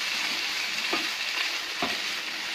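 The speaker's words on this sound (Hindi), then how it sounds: "अब इसको अच्छे से मिक्स करेंगे।" Boiled dried peas for ragda being mixed in a pan with some of their cooking water, a steady wet sizzle with two soft spoon scrapes, close and even, with no voices.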